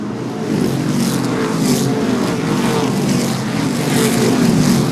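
Modified race cars howl around Seekonk Speedway in a True Value Mods 100 race, engines droning loud and continuous with repeated rising and falling surges as cars pass close by.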